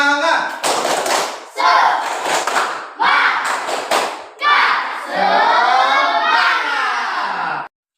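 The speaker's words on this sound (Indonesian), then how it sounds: "mari kita tepuk semangat" A school class performs the 'tepuk semangat' spirit clap, several bursts of loud rhythmic group clapping alternating with shouted chanting voices, ending in a sustained group shout.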